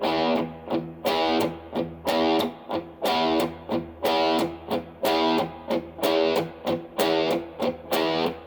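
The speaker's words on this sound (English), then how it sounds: "two palm muted picks and one open. So it's going to be open, closed, closed, open, closed, closed" A distorted electric guitar plays a rhythmic picking pattern that alternates open strums with palm-muted picks, a repeating pulse of ringing chords and choked chugs, steady and close.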